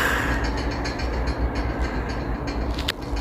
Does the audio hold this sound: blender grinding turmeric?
no